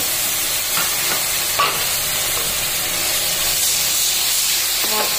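Spice paste of ginger, garlic, cumin, coriander, fennel and dried chilli hits a hot pan with onion and melted tomato, giving a steady loud sizzle and hiss with faint spoon scrapes throughout.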